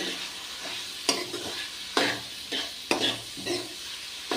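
Onions tossed into a pan for a soybean pod curry fry with a close sizzle, punctuated by several loud scraping stirs at irregular intervals, with no speech.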